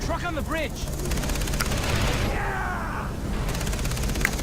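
Rocket launcher blasts and bursts of gunfire ring out in the video game Far Cry 3, a dense continuous barrage of shots and booms with voices talking over it.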